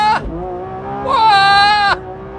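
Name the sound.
Lamborghini Revuelto engine revving to the limiter in first gear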